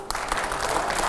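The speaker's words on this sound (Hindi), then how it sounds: "जोरदार तालियां हो।" Studio audience at a televised political debate giving strong applause, a brief dense burst of clapping heard on its own.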